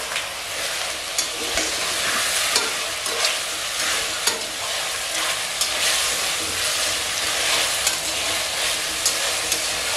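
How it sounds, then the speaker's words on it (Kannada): Masala sizzling in hot oil for Andhra-style chilli chicken, a close, steady crackling fry with scraping stirring strokes throughout and no talking. "ಆಯಿಲಲ್ಲಿ ಸ್ವಲ್ಪ ಚೆನ್ನಾಗಿ ಫ್ರೈ ಮಾಡ್ಕೊಳ್ಳಿ."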